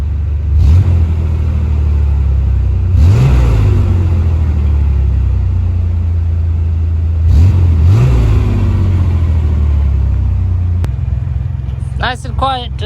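A car engine fitted with a Magnaflow exhaust revs hard several times over a loud, steady rumbling idle, each rev rising and falling in pitch, with people talking briefly at the end.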